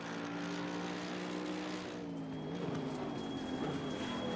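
A race car in the game Assetto Corsa Competizione at the Nürburgring sustains a faint engine drone that shifts pitch as it brakes into a turn, with overlapping tonal whine and no speech.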